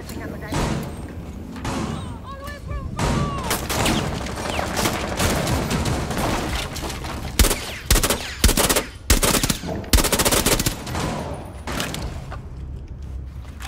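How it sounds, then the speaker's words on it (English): Rapid bursts of gunfire in the video game Rainbow Six Siege, some close and heavy, some farther off, mixed with thuds and impacts while players talk over the action. "They're shooting out this window."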